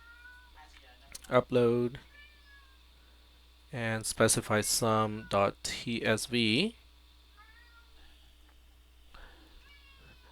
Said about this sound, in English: My cat is reminding me that it's dinner time.